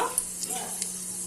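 Steady sizzling of whole spices and bay leaves frying in a hot pan for chicken biryani, with a few faint clinks of a spoon stirring; no voices.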